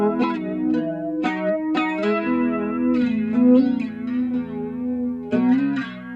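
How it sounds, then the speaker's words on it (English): Guitar notes and chords ring through an Asheville Music Tools ACV-NOS pedal's flanger effect with feedback, giving a sweeping, metallic, whooshing shimmer as they sustain and decay. "we can add some feedback, and you can see we're getting into the flanging territory here."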